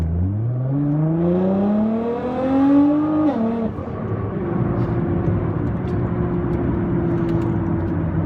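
A 2015 Nissan GT-R engine roars as it accelerates hard out of a corner, the pitch climbing steeply through a gear before a brief dip, then a steady loud drone at high speed.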